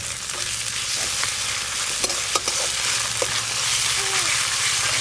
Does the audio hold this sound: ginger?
yes